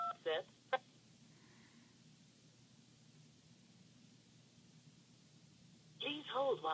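Keypad tones while dialing an OnSIP support line on a Panasonic phone, two short beeps near the start, then faint line hiss, then a burst of sound returning at the end.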